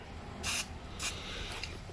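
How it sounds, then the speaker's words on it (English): Strong spray adhesive hisses onto the foam of a 1978 Kawasaki KM100 motorcycle seat in two short bursts, the first longer than the second, close and distinct over a quiet workshop background. "gonna spray more than I probably should in there"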